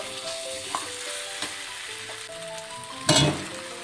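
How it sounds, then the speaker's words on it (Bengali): Mutton sizzles in hot oil with spices as fried potatoes are added, a steady close crackle with small clinks and a louder scrape of stirring near the end. "এখন ভেজে রাখা আলুটিও দিয়ে দেব"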